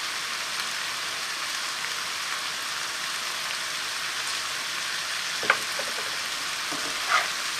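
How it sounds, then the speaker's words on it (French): Zucchini quiche mixture stirred in a hot pan, giving a constant close frying hiss much like steady rain, with a couple of brief utensil clicks near the end. "On mélange"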